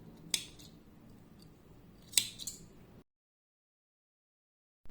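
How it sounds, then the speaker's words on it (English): Scissors snipping yarn while crocheting a spider, two sharp close cuts about two seconds apart, quiet between them, then silence. "Now I am cutting."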